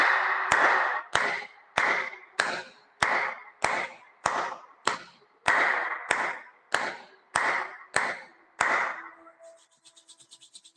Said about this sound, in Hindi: दाएं बाएं करेंगे और तालियां बजा लेते हैं